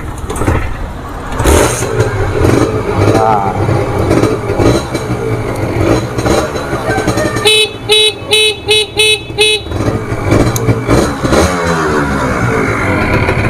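A used 150 cc motorcycle runs loudly and steadily during an engine sound check, with a burst of rapid, repeated horn-like toots midway and no talking.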